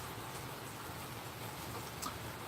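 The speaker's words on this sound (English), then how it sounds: "Andrea Mallory, the sound of rain is so relaxing and peaceful." Steady, soft rain falls outside a front porch, a constant even hiss with no distinct drops or voices standing out.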